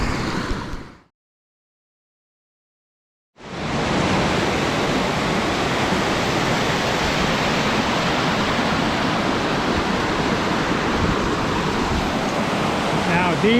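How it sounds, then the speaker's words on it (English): Waterfalls on the Red River gorge, Cape Breton Island, heard from the top: a steady, loud, broadband rushing roar of falling water that cuts out briefly near the start, then continues unbroken and close. "These are significant waterfalls. I'm standing at the top of them."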